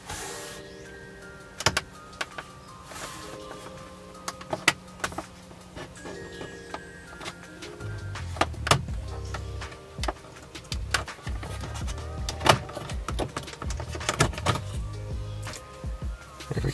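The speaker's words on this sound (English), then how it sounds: "I'm gonna use this plastic pry tool here to get underneath and pry this" A plastic pry tool works at the trim piece around the gear shift knob of a BMW F30, producing scattered close clicks and scrapes over a faint low hum, with no talking.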